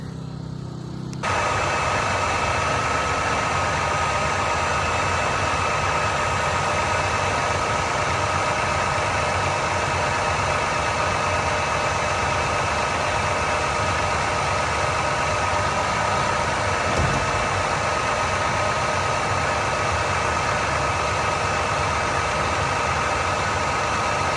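A steady engine drones and vibrates continuously throughout, a constant mid-pitched rumble close by with no breaks and no voices.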